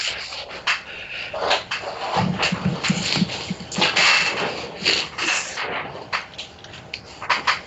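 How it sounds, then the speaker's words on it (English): Rustling and shuffling sounds, like papers being handled, come in irregular bursts close by, with no speech. "Somebody was shuffling papers or something, it sounded like."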